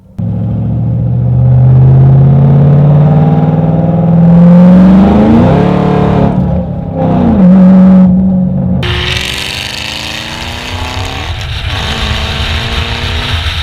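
A 2010 Shelby GT500 with an upgraded blower revs hard up close, its loud exhaust rising and falling in a raspy roar over repeated throttle blips before settling into a rough, rumbling idle.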